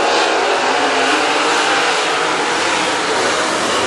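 WISSOTA modified race cars at Granite City Speedway roar at full throttle as the field is turned loose. The wall of engine noise is loud, dense and continuous, with no talk.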